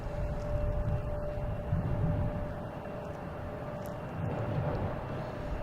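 Steady, distant roar of a JetBlue A321neo airliner arriving at Boston Logan Airport, a soft continuous rumble that holds evenly throughout with no other clear sounds.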